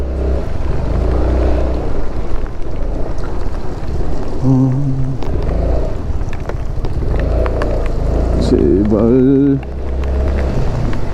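A motorcycle pulls away and rides through rain on a Jeju island trip, a low steady engine rumble under heavy wind noise, with brief rises in pitch as it accelerates and a rider speaking a word.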